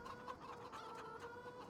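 Chickens in a farm shed holding about 1,000 birds, shown in a farming simulator game, cluck and murmur in a continuous soft chorus at low level, with no voices over it.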